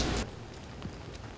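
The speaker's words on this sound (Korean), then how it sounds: "동영상 제출을 하루 앞둔 날, 아침부터 내리기 시작한 비." Rain falls outdoors on the day of a solar-powered car competition, a soft, continuous patter with a louder burst at the very start.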